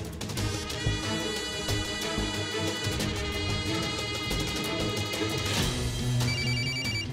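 A telephone rings repeatedly in a Marathi TV serial scene, its tones layered over a steady bed of dramatic background music for the whole stretch.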